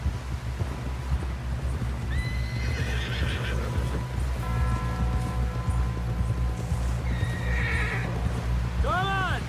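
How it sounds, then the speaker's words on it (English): A horse gallops with fast, rhythmic hoofbeats through a Western frontier scene in Red Dead Redemption 2. Several loud, near whinnies and neighs break over the pounding, along with a steady low rumble. "Someone help John down off this horse."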